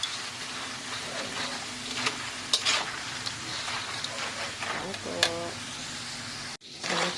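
Banana chips frying in a pan of hot oil, a steady close sizzle with occasional stirring clinks of a utensil, while a person talks over it.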